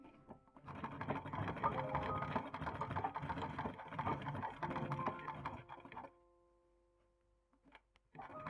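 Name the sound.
sewing machine zigzag stitching a pocket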